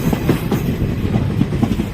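Passenger train rolling steadily along rails, a continuous rumble with rhythmic clickety-clack of wheels over joints, close and loud with no talking.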